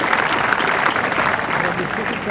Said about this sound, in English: a warm round of applause by a crowd here now, warmed by afternoon sunshine